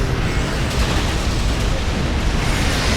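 Torpedo spread explosions from a Venture-class exploration cruiser refit in Star Trek Online, a loud continuous roar of overlapping blasts and rumbling booms with no pauses, close and dense throughout.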